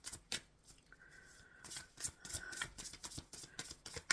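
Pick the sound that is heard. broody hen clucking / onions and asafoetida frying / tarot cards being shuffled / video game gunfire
tarot cards being shuffled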